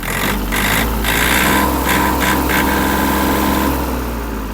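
Yanmar RS-270 mini tractor diesel engine runs loud and close, rising and falling as the throttle is blipped in several short revs over a steady rumbling idle.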